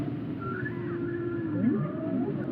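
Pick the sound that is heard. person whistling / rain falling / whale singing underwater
whale singing underwater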